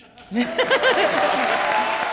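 A television comedy show audience breaks into applause after a brief opening voice, the clapping swelling quickly and holding steady with some voices mixed in.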